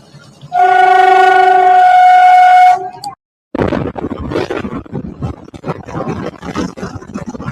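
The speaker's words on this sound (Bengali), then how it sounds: "এই ট্রেনটি ভেরাবলের দিকে যাচ্ছে, আর এটা হচ্ছে আমাদের ট্রেন যাচ্ছে জুনাগড়ে" A loud, sustained train horn blares for about two seconds at Talala Junction in Gir, then a brief silence, followed by the rumbling clatter of a passing train bound for Veraval.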